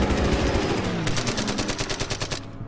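In the wargame Order of Battle, a fighter plane attacks an Arado with rapid bursts of machine-gun fire, a close, loud rattle that runs through most of the moment and stops abruptly at the end.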